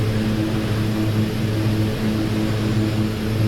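OV-10 Bronco twin propeller engines throttled back in the DCS World flight simulator, a steady loud droning hum with no pauses.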